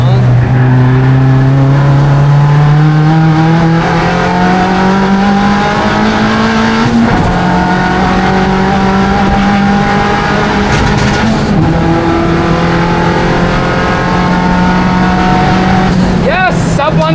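A rare Ford factory race car being pushed around a lap, its engine loud and close, revving and climbing through the gears with shifts, droning steadily throughout.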